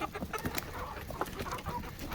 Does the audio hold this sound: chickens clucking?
yes